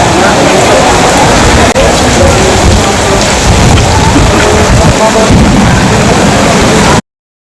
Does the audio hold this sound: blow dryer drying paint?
no